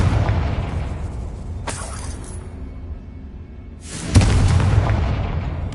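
A Confringo blasting spell in the Hogwarts Legacy video game bursts with a loud boom and crackling debris, followed by a second heavier explosion that leaves a sustained rumbling roar.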